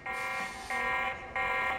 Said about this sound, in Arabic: فيها صوت هذا تسمعوه، تقدر تعطي تنبيه او اي شخص يجي يم المزرعة تقدر تعطي تنبيه هذا الصوت